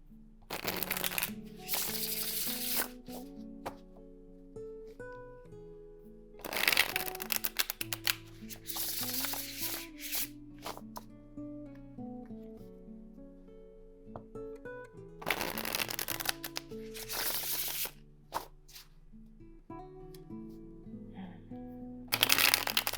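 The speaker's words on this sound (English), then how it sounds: "I feel like I need to shuffle this one a lot more." Tarot cards are shuffled in repeated bursts of riffling and flicking, separated by pauses, with soft background music underneath and no voices.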